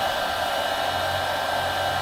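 A hair dryer runs steadily off a Renogy 100Ah Pro Lite lithium battery, giving a constant, even, loud whoosh of fan and airflow with a stable tone throughout and no break or voices.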